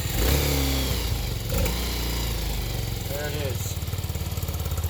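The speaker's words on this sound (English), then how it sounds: "We're gonna go ahead and fire it up. No choke. We'll just go ahead and hit the button." A 2020 Vader Gen2 engine fires up on the push button with no choke, settling into a steady, loud running drone with rapid pulsing, while a person speaks briefly over it.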